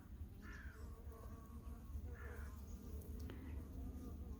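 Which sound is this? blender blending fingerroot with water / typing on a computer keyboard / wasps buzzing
wasps buzzing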